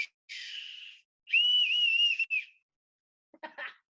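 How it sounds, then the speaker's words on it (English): A bosun's whistle plays a shipboard call: a sustained shrill tone, then a longer warbling, rising and falling note, a brief pause, and a few short chirping trills at the end, loud and close. "Bosun's whistle is used to make different calls for communication throughout the ship."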